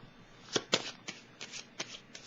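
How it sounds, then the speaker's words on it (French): Tarot cards shuffled and laid down in a few quick papery riffles and soft slaps, close and fairly quiet, with a faint hint of voice underneath. "Je vais déposer une carte encore ici"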